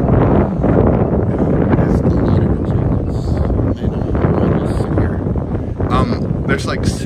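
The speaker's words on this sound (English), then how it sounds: "the wind is blowing 70 to 80 miles an hour" Strong outdoor gusts of around 70 to 80 mph roar continuously into the microphone as heavy buffeting rumble, loud and unbroken across the whole stretch.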